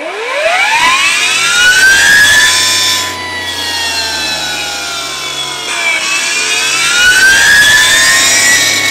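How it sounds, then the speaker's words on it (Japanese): Makita MUR013GZ cordless brush cutter's electric motor spinning up and down as the throttle lever is worked, a loud whining tone that sweeps upward, dips, then climbs again, with no talking. "このアクセルレバーの操作した後のモーター音をね聞き比べていただければ"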